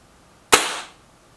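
A single sharp crack from a PCP air rifle, either a Reximex Accura or a Kral Puncher Breaker, fires close by on a target range and fades within a fraction of a second, alone.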